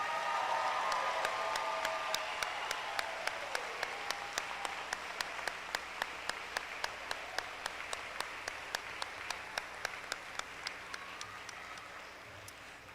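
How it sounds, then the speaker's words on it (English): An audience applauds the graduating eighth-grade class at a school graduation ceremony. The clapping starts moderately and fades away, while a row of sharp, evenly spaced ticks runs on quietly to the end. "please join me in giving a round of applause as we congratulate the class of 2029"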